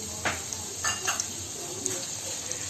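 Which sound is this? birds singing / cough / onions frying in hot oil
onions frying in hot oil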